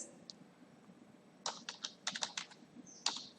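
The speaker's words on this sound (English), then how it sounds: "I'm typing here some password, but it is not visible directly" A password is typed on a computer keyboard, a quick irregular run of close, crisp key taps after a second of quiet room hiss, with one louder press near the end.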